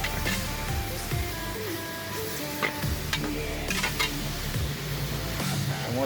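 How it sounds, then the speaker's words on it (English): Chicken pieces brown in a pot for jambalaya, sizzling steadily while a spoon scrapes and stirs in repeated strokes. Faint music plays underneath. "Alright, we're gonna cook the chicken down. Same way we did the pork. We're gonna cook it down, brown it."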